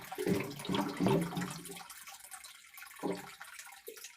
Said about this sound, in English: water filling